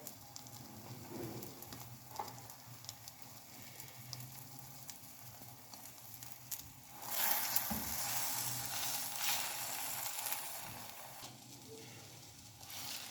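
A slice of sandwich bread frying in a pan, with a continuous soft sizzle and light crackle that swells loudly midway, likely as the slice is pressed or turned, then settles back to a steady fry.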